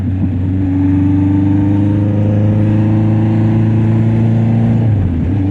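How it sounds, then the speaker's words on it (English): A car exhaust fitted with an exhaust tip gives a loud, close, throaty drone that holds steady and then dips slightly near the end, with no voices. "Takes a little bit of the bark out of the exhaust. Still has a nice throaty tone to it."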